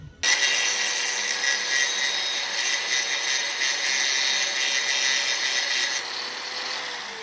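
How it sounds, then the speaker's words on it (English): Angle grinder cutting back metal on a Mazda MX-5 during a 1UZ V8 swap: a loud, close, continuous high-pitched grinding whine that runs steadily for about six seconds and then cuts off, with no voices. "God bless angle grinders."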